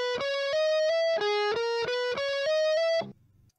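Electric guitar shred lick mixing picked notes with hammer-ons, a steady run of bright, distorted notes in quick groups that ends abruptly, leaving a faint tail.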